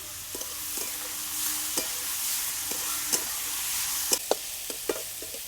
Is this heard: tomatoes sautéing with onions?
yes